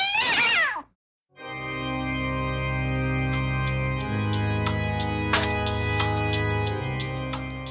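A cat lets out one short, rising meow at the start. After a brief pause, a steady run of sustained music with light percussive accents takes over.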